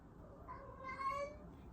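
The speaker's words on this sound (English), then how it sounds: "the cute thing about my cat is that when she gets fed, she likes to yell out to the ether" A cat yowls loudly right after being fed, a drawn-out, rising-and-falling meow rising over a low background hum, close by and alone without speech.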